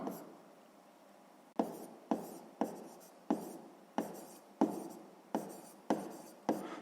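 Pen or pencil writing by hand on paper during a sixth-grade maths exercise, a brief quiet stretch followed by a regular series of close, crisp strokes, no voices.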